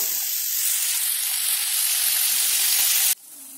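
Curry leaves sizzle and crackle hard in hot oil for poha, a steady bright frying hiss that stays loud and close, then drops suddenly to a quieter sizzle near the end.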